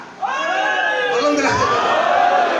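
A crowd at a majlis raising a loud chanted slogan together, a sudden swell of many voices shouting in unison at close range that holds for a couple of seconds.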